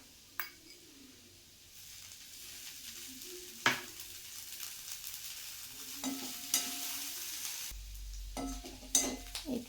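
Bitter gourd (karela) sizzles steadily in a frying pan, with a spatula stirring and occasional sharp clinks against the pan, close and moderately loud.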